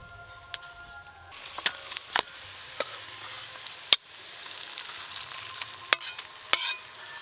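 Bhetki fish oil sizzling and frying in a wok in a home kitchen, a steady soft crackle broken by scattered pops and clinks of stirring.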